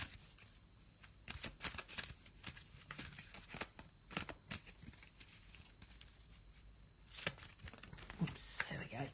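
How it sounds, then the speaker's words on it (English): Power animal oracle cards are shuffled in loose, irregular flurries of soft riffling taps, close and fairly quiet, with a few brief pauses between bursts. "Don't seem to be shuffling the cards very well today"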